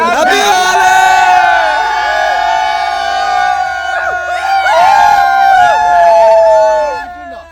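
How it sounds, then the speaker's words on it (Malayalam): Holi celebration crowd in Madhya Pradesh cheering and whooping loudly and steadily throughout, many overlapping voices with shrill whoops and shouts, close and continuous before fading slightly at the end. "അപ്പോൾ അതിൻ്റെ ആഹ്ലാദം ആർപ്പുവിളിയാണ് അവിടെ കണ്ടത്"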